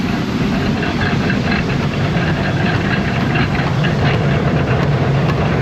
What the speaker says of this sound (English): Tractor started.